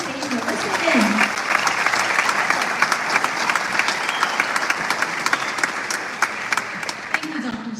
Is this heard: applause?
yes